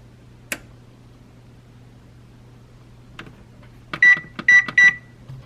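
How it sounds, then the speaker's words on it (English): A home oven timer being set for a pizza, a few faint clicks followed by a run of three sharp electronic beeps, close, over a steady low appliance hum. "Timer on 40 minutes"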